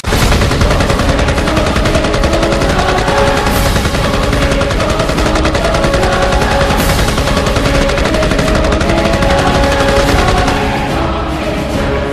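Rapid continuous popping of BB guns firing at a blimp, a dense rattling volley that runs loud and unbroken for about ten seconds before easing slightly.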